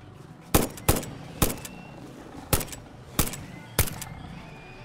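Six sharp gunshots from a weapon in the video game Satisfactory ring out one at a time at uneven intervals, each loud crack decaying quickly over a low background hum.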